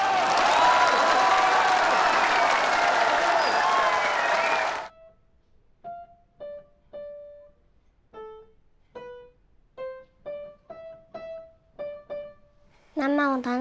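A wedding crowd bursts into loud, dense applause and cheering that runs for several seconds, then cuts off abruptly. Sparse piano notes follow.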